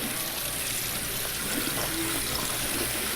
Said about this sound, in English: And now we're just going to give a quick rinse to our garbanzos.